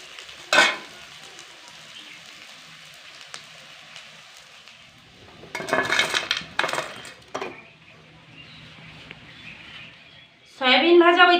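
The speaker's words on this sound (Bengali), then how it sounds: "সয়াবিনগুলো খুব সুন্দরভাবে ভাজা হয়ে গেছে" Soybean chunks fry in hot oil in a pan, a soft sizzle underneath broken by sharp clinks and scraping bursts as the pieces are stirred and lifted out, with a voice talking intermittently.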